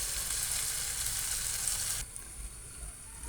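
Fish curry cooking in a pan gives off a steady bright sizzle and bubbling, loud and close, which drops suddenly to a softer simmer as the pan is covered.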